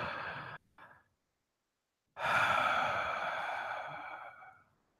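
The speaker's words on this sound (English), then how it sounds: "Take a deep breath and breathe with me." A slow, deep breath with a short inhale near the start, a pause, then a long audible exhale sighing out for about three seconds, close and intimate in a quiet ASMR-style setting, no talk.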